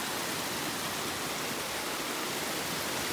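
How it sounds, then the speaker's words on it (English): A mountain creek in the Geraldine Lakes valley, a dense, even rush of flowing water filling the whole clip, loud and unbroken with no voices. "Here's the creek."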